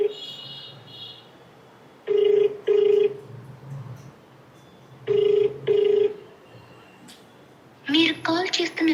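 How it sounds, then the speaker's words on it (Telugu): An unanswered phone call rings out: a double-pulse ringback tone sounds twice, clear and evenly spaced over faint background noise, before a voice begins speaking near the end. "ఫోన్ రింగ్ అవుతుంది, లిఫ్ట్ చేయట్లా."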